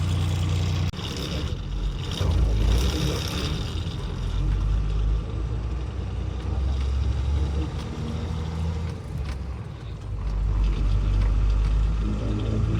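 A vehicle emitting black smoke is driven a short distance, its engine giving a continuous low rumbling drone with wind and road noise that swells and eases, heard up close without talking.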